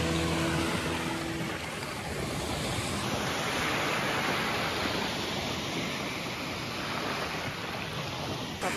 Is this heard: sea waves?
yes